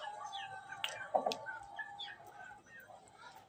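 Chickens cluck and chirp softly close by, a few short calls over a quiet background with a faint voice.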